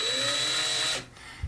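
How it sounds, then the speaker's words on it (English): Electric drill working on a model ship, a loud steady whine for about a second that rises slightly in pitch, then cuts off, followed by a brief quiet and a small knock. "we're going to just use our electric drill here"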